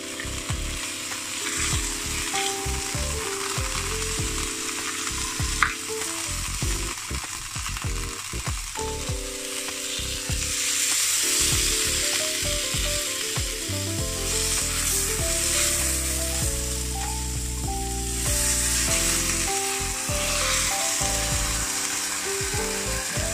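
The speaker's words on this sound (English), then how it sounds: "I'm going to sear off the lamb, just get a bit of colour on it" Lamb sears in a hot pan with a steady, close sizzle and frying hiss that carries on unbroken throughout, while low background music plays.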